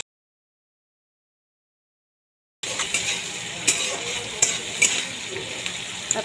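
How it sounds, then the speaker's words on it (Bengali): Onion frying in a pan for a fish curry: after a stretch of silence, a steady sizzle starts up with occasional sharp clinks of a utensil against the pan, fairly close and with no talking. "এবার এই পেঁয়াজটা একটু ভেজে নেব।"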